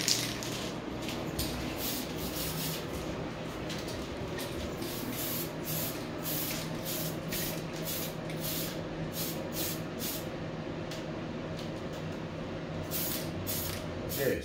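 Aerosol paint hisses in steady, continuous bursts as a light first coat goes onto a Tamiya Toyota Land Cruiser 40 pickup model body, with a fan whirring underneath, close and unbroken throughout.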